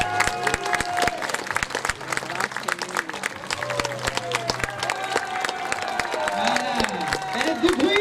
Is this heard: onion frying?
no